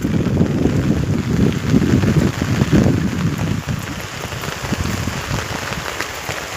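Heavy rain pours down in a dense, unbroken roar of drops hitting surfaces. It runs loud and steady, easing slightly partway through, with no voices.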